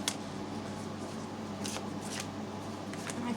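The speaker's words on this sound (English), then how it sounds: "I cleared the cards and I'm shuffling them" Tarot cards are shuffled by hand in quiet surroundings, with soft, papery riffles and slides coming in short, irregular bursts over a low background hum.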